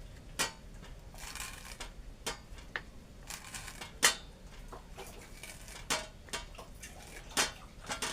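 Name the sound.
chopping bharangi wild leafy greens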